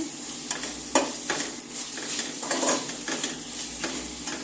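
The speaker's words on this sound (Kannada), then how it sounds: "ಚೆನ್ನಾಗಿ ಫ್ರೈ ಆಗಿ ಎಣ್ಣೆನೂ ಬಿಟ್ಕೊಂಡಿದೆ" Masala sizzles in hot oil for egg biryani while a spoon stirs and scrapes the pan in irregular bursts, a close, steady frying hiss under the clinks.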